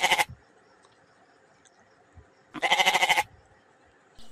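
A goat bleats twice, loud and close: a short quavering cry at the start, then a longer wavering bleat after a pause of quiet background.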